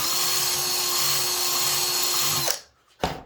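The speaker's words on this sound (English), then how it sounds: "how much you need to re-drill the holes" A high-pitched drill whines steadily at close range re-drilling holes in a control wheel part, then stops abruptly, followed by a brief short burst.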